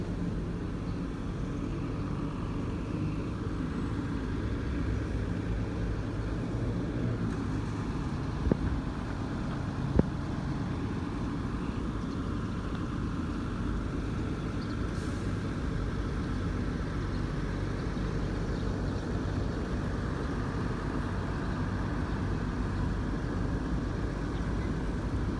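Bineka Grandmaster bus pulling into Tawangunan bus terminal, a steady low engine rumble with a couple of brief knocks around it, continuous throughout with no talking.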